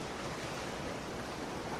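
Ocean waves as a steady, soft wash of surf noise, even and unbroken throughout, fairly faint and with no voices.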